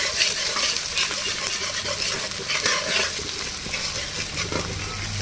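Ginger and garlic frying in hot oil for a potato curry, a continuous close sizzle with stirring scrapes running throughout.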